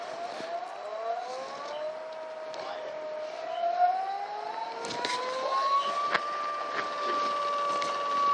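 Variable-speed lathe tool sharpening grinder running steadily at 2,000 RPM, a smooth sustained whine with rising harmonic tones as it settles at speed, fairly quiet with faint vibration and occasional small clicks.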